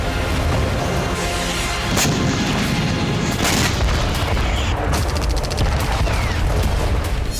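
Explosions from a Hezbollah attack on the Haifa naval base at night: loud, heavy booms and sharp blasts follow one another over a dense, rumbling roar.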